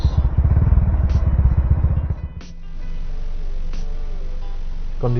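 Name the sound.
motorcycle with aftermarket exhaust being revved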